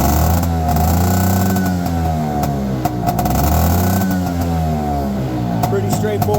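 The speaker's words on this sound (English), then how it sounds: "give it a nice solid kick, and it will come on" A small motorcycle engine running after a kick start: a steady, close mid-pitched putter whose revs rise and fall throughout.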